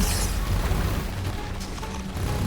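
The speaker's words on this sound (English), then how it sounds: "Charge up the Mega Inferno Doom Cannon." An Ion Cannon fires in The Riftbreaker, a base-building sci-fi video game, releasing a heavy, booming discharge with mechanical whirring and rumbling that fades and swells again, with no speech over it.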